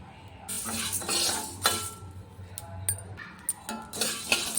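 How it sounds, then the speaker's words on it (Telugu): Coriander seeds are dry-roasted in a pan for sambar powder, heard as close, irregular metallic scraping, stirring and clinking of a utensil against the pan. "తర్వాత అదే పెనంలోకి ఒక అరకప్పు ధనియాలు వేసి వేయించుకోవాలి"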